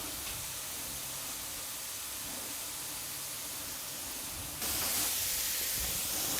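French fries frying in hot oil give off a steady, close hiss of bubbling and spitting, which grows louder and brighter near the end. No one speaks.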